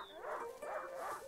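A dog in the video game A Plague Tale: Innocence gives a few short, faint whining yips in a soft, rhythmic series, heard alone at low volume.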